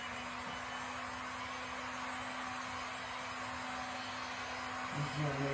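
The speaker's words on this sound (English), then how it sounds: "Now we're going to take our heat gun." Heat gun blowing over a resin pour, a steady, faint airy whirr with a low hum that runs without a break, followed by a brief murmur of voice at the very end.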